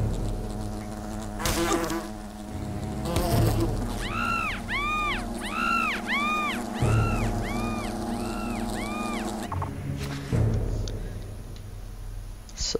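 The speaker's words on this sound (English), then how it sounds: "Ah! Wasps!" Giant wasps buzz in the Fable Anniversary video game, a run of repeated swooping whines that rise and fall over several seconds, sitting loud and close over a steady low game drone with brief thumps.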